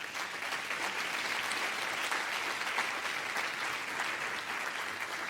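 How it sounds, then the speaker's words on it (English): An audience at a media forum applauds, a steady dense clapping that holds at an even level for several seconds, moderately distant. "A big applause."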